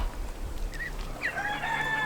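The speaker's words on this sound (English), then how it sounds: "my other two geese are Chinese crested" Chinese crested geese calling outdoors, with a few short nasal honks and a longer, wavering trumpeting call toward the end, heard fairly close over steady background noise.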